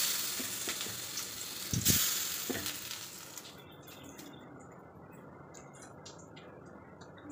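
Curry leaf pakoras fry in a shallow amount of hot oil, giving a soft close sizzle and hiss with a few stirring bumps, fading to a quieter crackle.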